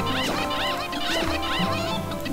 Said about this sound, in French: Attends, genre les poulets.